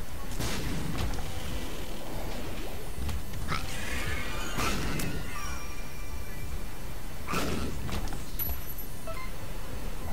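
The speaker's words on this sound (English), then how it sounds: "Interesting how a bomb blew that up." A bomb blast in The Binding of Isaac: sharp broadband bursts, with a couple of strong booms and smaller impacts spread through ten seconds over constant game background noise.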